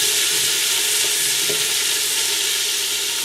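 Chicken and rice cook in a pot on a stove at medium heat with olive oil, giving a steady, loud, continuous sizzle and hiss with no voices.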